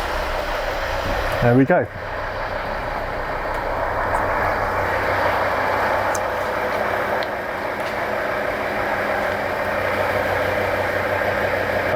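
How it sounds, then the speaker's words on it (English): A car engine is cranked over briefly by the starter, catches and settles into a steady idle that runs loud and continuous, with a short spoken remark near the start. "So I'll put the key in the slot, brake pedal on, and crank."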